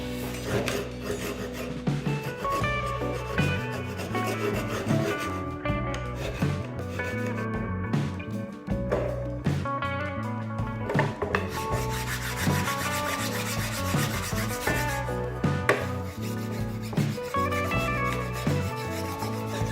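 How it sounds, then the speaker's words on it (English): Handsaw and file scoring deep grooves into a wooden board, with continuous rasping strokes and scraping in an uneven rhythm, close up and with no talking. "I'm taking a handsaw and a file and I'm making deep grooves and score marks into the board."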